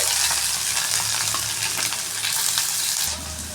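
Chopped tomato, onion and chili fry in two spoons of mustard oil in a kadai, giving a loud, close sizzle with stirring that runs continuously and eases slightly near the end, with no talking.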